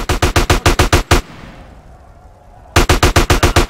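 Rapid automatic gunfire in GTA San Andreas, loud close bursts of evenly spaced shots, a pause of about a second and a half with a ringing tail, then another fast burst.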